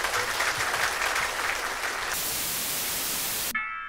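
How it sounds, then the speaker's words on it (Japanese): An audience at a live music festival performance by a band breaks into dense, sustained applause, loud and steady, then cuts off abruptly near the end. "皆さんもう一度盛大な拍手"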